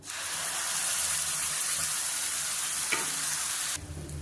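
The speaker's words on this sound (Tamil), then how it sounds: "எல்லாமே நல்லா பொரிஞ்சிருச்சு அப்புறம் அரைச்சி வச்ச சட்னியை சேர்த்துக்கலாம்" Ground chutney goes into hot tempered oil with mustard seeds and curry leaves, setting off a loud, steady, close sizzle and hiss with stirring, then dropping sharply at the end.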